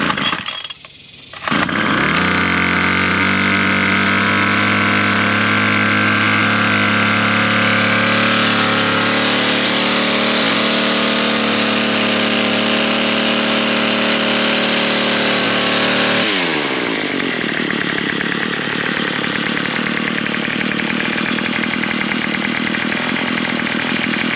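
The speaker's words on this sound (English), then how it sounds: "Pull to start engine, do not squeeze throttle. Wait 30 seconds and then squeeze the throttle." A TroyBilt gas hedge trimmer engine is pull-started, then runs loud and steady with a buzzing two-stroke drone for about fifteen seconds before dropping to a lower idle for the rest of the clip.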